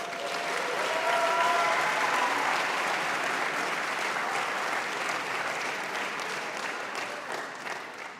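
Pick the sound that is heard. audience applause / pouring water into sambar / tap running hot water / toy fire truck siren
audience applause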